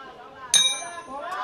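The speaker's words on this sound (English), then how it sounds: "There goes the bell." A single bright ring of a boxing round bell at a 57kg bout in the IBA 2025 Men's World Boxing Championships, struck once and left to ring briefly over a murmuring arena background.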